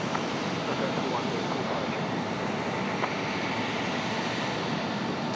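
A Boeing 767 or Airbus A300 jet airliner at Raleigh-Durham International Airport on a busy evening, producing a steady, dense broadband roar that stays even and unbroken throughout.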